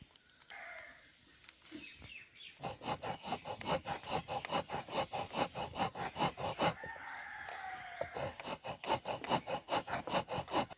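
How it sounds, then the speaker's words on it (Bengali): Semolina being ground by hand on a traditional stone grinder, a shil nora, making a steady run of close, rhythmic rubbing and scraping strokes that start after a brief quiet opening and continue without any talk. "এই সুজিটা আমি গুঁড়ো করে নেব"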